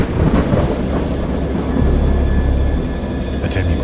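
A thunderstorm with low, rumbling thunder rolls steadily over a hiss of rain, heavy and sustained throughout.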